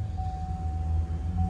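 Chevy Cruze engine idling loudly right after a restart, a steady low rumble with a constant whine above it, close and unbroken.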